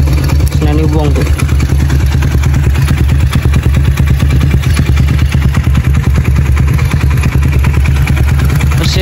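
A 2003 Honda CB Megapro motorcycle engine runs steadily up close, a loud, continuous rapid mechanical pulsing and clatter throughout, with a brief voice near the start.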